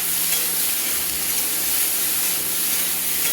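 Vegetables frying in oil in a pan with a little turmeric and salt, giving a continuous loud bright sizzle and hiss, steady throughout with no talking.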